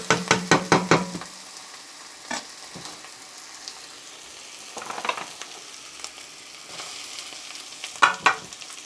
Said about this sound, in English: Fry for about 2 minutes